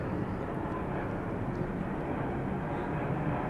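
A continuous low rumble of an airplane passing overhead, steady and fairly loud, filling the space without any break.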